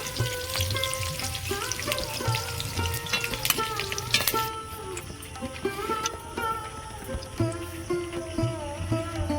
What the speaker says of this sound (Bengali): পেঁয়াজগুলো আমি হালকা করে ভেজে নিয়েছি এবার তুলে নেব